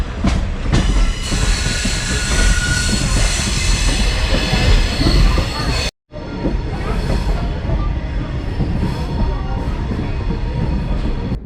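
A passenger train on the Blue Ridge Scenic Railway rumbles steadily past at close range, with rolling wheel noise and metallic squeals, a brief cut midway, then continuing rumble.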